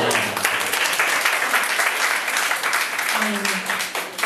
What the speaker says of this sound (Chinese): 我们现在就热烈掌声欢迎所有的猛男啊